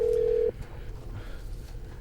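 A telephone dialing tone sounds as a single steady tone that holds for half a second and then cuts off, leaving quiet line hiss and faint low background rumble.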